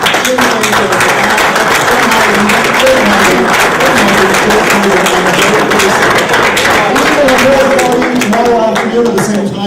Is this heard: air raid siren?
no